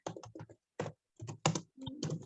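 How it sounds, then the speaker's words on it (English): Short, close bursts of computer keyboard typing are split by brief silent pauses, each flurry a quick cluster of crisp key clicks, with no voices. "Just typing here"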